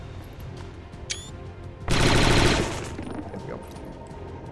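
Video game gunfire from XCOM 2 in a loud burst of rapid automatic shots lasting under a second, tailing off into a reverberant decay, with a voice briefly speaking just before.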